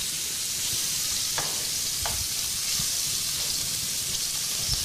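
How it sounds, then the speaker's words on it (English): Spiced venison browns in hot oil in a pan, giving a steady, close sizzle with a few scraping stirs throughout. "we're just browning it here"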